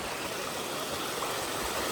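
A farm river running high after flooding, a steady broad rushing hiss of flowing water, continuous and fairly close, with no voices over it.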